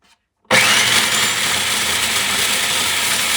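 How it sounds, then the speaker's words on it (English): Food processor running on high speed, chopping dried arbol chilies for hot chili oil; a loud, steady whirring grind that starts abruptly after a brief silence and holds constant to the end, with no voices. "I'm going to use the food processor for the Arbol chili. I'm going to go high."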